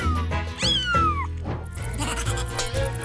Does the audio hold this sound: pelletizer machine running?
no